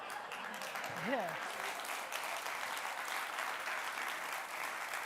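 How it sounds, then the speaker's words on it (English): An audience at a keynote talk applauds steadily throughout, a dense wash of clapping, with a voice briefly audible over it near the start. "huge round of applause for my interpreter"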